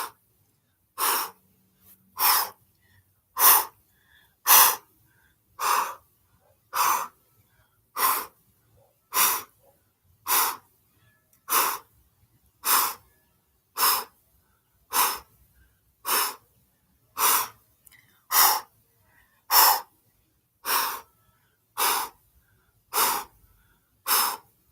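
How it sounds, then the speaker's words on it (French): Kundalini breath of fire done through the mouth during an outdoor yoga session: about twenty sharp, rhythmic breath bursts evenly spaced around a second apart, close to the microphone with near silence between them. "Respiration du feu avec la bouche en haut."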